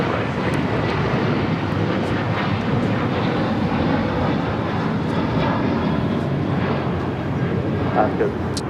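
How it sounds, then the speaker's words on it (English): Air Canada Boeing 787 Dreamliner at LAX preparing for takeoff, a steady loud jet engine roar that holds throughout with broadband rumble, with a voice speaking over it. "And Air Canada, the Dreamliner, getting ready for takeoff."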